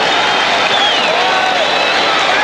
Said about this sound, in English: Getting a standing ovation by the crowd.